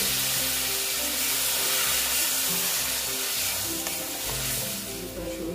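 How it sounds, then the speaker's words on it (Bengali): Water hits potatoes and spices frying in a pan, raising a loud, steady hiss and crackle that holds close and constant throughout. "এখন আমি একটু জল দিয়ে দিচ্ছি"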